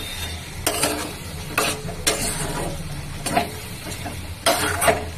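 A cabbage dish with rice is stirred in a wok, giving close, intermittent scraping and clattering strokes of a utensil against the metal over a low sizzle, roughly one stroke every second.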